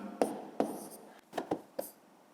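Pen strokes of someone writing numbers by hand on paper for a fifth-grade maths exercise, five short scratchy taps in an uneven rhythm, close and quiet, with no talk.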